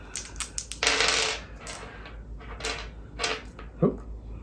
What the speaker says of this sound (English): So let's go ahead and roll our action dice.